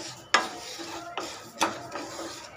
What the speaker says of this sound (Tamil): தீ கம்மியாக வச்சுட்டு நிதானமாக க்ளீனாக வறுத்துக்கிட்டு இருக்கேன்